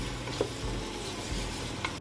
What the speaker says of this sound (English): Add the chopped carrot and celery to the pot and continue stirring for about 4 minutes